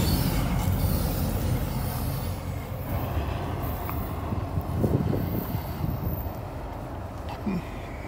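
A Norfolk Southern freight train rolls past on the tracks beside a road, a steady broad rumble heard outdoors with wind buffeting the microphone, staying loud throughout.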